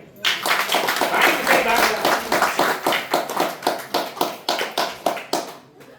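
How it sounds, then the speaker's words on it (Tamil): Audience clapping at a Karuppasamy temple gathering, a dense burst of applause settling into a steady rhythmic beat of hand claps, fairly close and loud, continuing for several seconds. "எல்லாரும் கை தட்டு."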